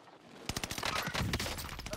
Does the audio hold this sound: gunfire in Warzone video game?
yes